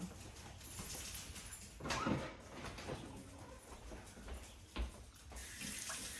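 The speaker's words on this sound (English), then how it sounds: "so I just rinsed my hands off from throwing that away." Water runs from a kitchen tap as hands are rinsed, a soft, continuous splashing stream with a few small knocks, heard close but quiet.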